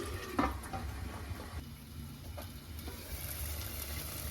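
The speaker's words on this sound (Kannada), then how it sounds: "ನೋಡಿ ಇವಾಗ ಮಸಾಲದಿಂದ ಎಣ್ಣೆ ಸಪ್ರೇಟ್ ಆಗುವವರೆಗೂ ನಾನು ಇದನ್ನು ಕುದಿಸ್ಕೊಳ್ತೀನಿ" Chicken sukka masala simmering in oil until the oil separates, a soft steady sizzle with a few faint spoon scrapes and a brief clink near the start.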